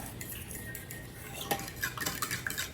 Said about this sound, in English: next we're just going to stir. Get that yeast activated